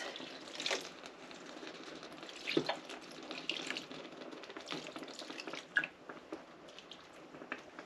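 Liquid dye poured onto yarn in little stripes, giving soft irregular splashing and squishing pours with a few sharper drips, close and moderately quiet; no talking.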